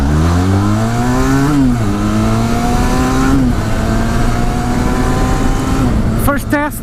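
A Benelli TRK 502 motorcycle engine drones loudly while riding on a road, its pitch rising and falling through gear changes under strong wind rush, with a brief high whine near the end.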